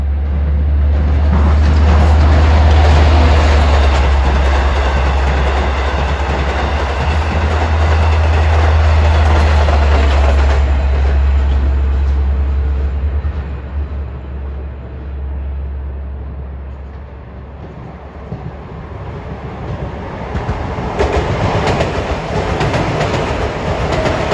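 A double-ended Long Island Rail Road train, number 559 from Oyster Bay to Jamaica, passes at Elmont with a heavy, continuous roar and clickety-clack of wheels, fading somewhat before rising again near the end.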